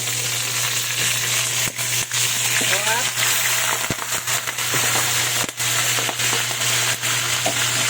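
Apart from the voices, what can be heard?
tilapia frying in oil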